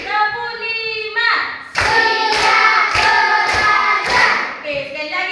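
A classroom of pupils claps in a counted round, a quick run of about five or six crisp group claps following chanted counting by the class, close and loud.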